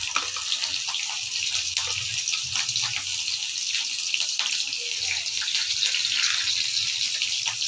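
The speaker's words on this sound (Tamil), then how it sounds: "கடாயில் கொஞ்சோண்டு எண்ணெய் ஊற்றிட்டோம். வெங்காயம், பூண்டு எல்லாத்தையும் லைட்டாக இதுவாக வரத்துக்காக ஃப்ரை பண்ணுறதுக்காக வெங்காயத்தை போட்டோம்." Onion and garlic fry in a little oil in a pan for peanut chutney, giving a steady close sizzle with fine crackling pops and no voices.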